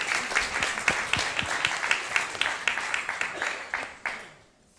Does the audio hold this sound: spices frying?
no